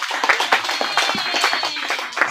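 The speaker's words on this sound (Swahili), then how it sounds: "Mpigie Yesu makofi jamani." A church congregation claps together at the close of a ten-day seminar, a brisk dense burst of many hands applauding near the listener, with no talk over it.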